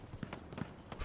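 Footsteps in the video game Hell Let Loose, a steady run of soft muffled steps at an even rhythm, moderately close, with no talk over them.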